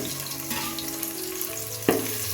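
Sliced medium onions fry in oil in a pan for veg pulao, a soft sizzling bubble close by, with one sharp clunk of a utensil near the end.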